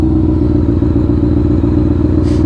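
A loud motorcycle exhaust rumbles close by in a steady, continuous idle-to-low-rev drone with a dense low-end throb and light clatter, heard on its own without talk.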